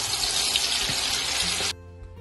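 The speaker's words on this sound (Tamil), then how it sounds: "இப்ப எண்ணெய் சட்டி கொதிச்சுட்டு நாங்க இந்த வெங்காயத்தை இந்த எண்ணெயில போட்டு பொறிக்க போறோம்." Sliced onions sizzle loudly in hot oil in a frying pan, a dense, continuous hiss close by that cuts off abruptly near the end.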